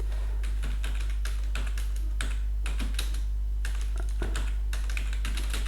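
Quick bursts of typing clatter on a computer keyboard, close and fairly quiet, in irregular runs of keystrokes separated by short pauses, over a steady low hum.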